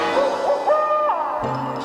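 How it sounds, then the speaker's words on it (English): A great snowy owl gives a string of wavering hoots, clear and close, with no voices over them. "the great snowy owl set up a terrible, terrible howl"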